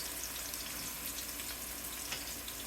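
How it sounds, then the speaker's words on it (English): Three chopped green onions sauteing in olive oil over medium-high heat for pork fried rice, a soft, continuous crackling sizzle, quiet and steady, no talk. "We're going to saute 3 green onions chopped up."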